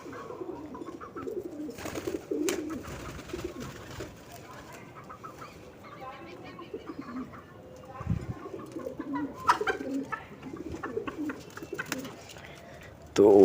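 Soft cooing of pigeons mixes with clucking fowl and a voice talking throughout, with a few louder bird calls and rustling nearby.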